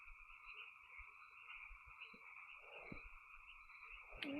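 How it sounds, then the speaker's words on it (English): Frogs chatter in the background outdoors, a steady low trilling chorus running continuously under faint ambient noise, with no talking. "as the frogs chatter in the background"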